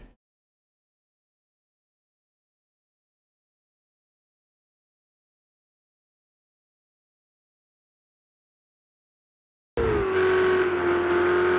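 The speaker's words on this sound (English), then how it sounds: "now we should have engine sound at least" After a long silence, a race car engine from a racing video game at Bathurst suddenly roars in at a steady high drone, loud and close, holding its pitch.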